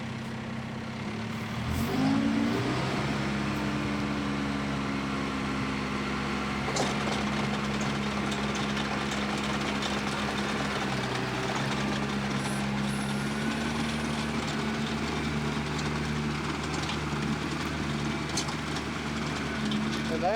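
A tractor engine runs steadily while driving the 540 RPM PTO of a Vicon seeder, a continuous low drone with a steady hum that shifts slightly as it revs up near the start, then holds even.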